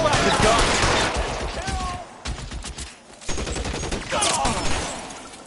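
Gunfire in LA Noire, with loud overlapping shots in rapid bursts that drop out briefly at about two seconds and return, while people talk over the shooting.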